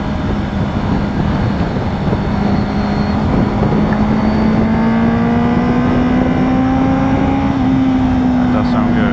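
A Honda CBR650F motorcycle engine running on a ride, a steady, loud drone whose pitch climbs slowly as the rider pulls through the gears, with wind rush underneath and no clear speech.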